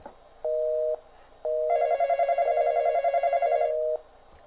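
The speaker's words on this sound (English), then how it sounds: "So you just basically had to keep answering the phone." An in-game telephone in the Roblox horror game The Intruder rings in repeated electronic bursts: one short ring, a pause, then a longer warbling ring layered with a higher chime, loud and without talk.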